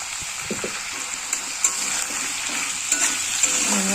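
Potatoes fry with salt and turmeric for a rupchand fish curry, giving a loud, close, steady sizzle broken by soft scrapes and taps of a spatula.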